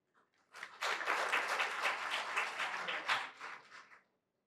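Audience applause at an education panel: a burst of many hands clapping that swells quickly, holds steady for about three seconds, then fades out, with no talk over it.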